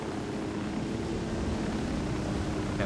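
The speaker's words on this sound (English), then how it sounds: "these helicopters are really clunky to fly" A helicopter in Ghost Recon: Wildlands flies with a steady, even rotor and engine drone that holds at a constant level throughout.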